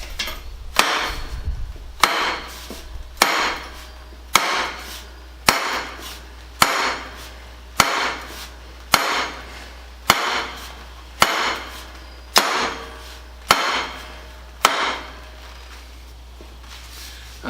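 A hammer drives a pipe into a kinked, storm-damaged frame to back up the bend as a mandrel. About fourteen loud, sharp metallic blows land at a steady pace, close and isolated, with no talk.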